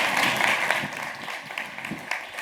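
An audience at a panel discussion on frontier technology gives a dense, continuous round of applause. Many hands clap at once in a loud, steady wash with no pauses.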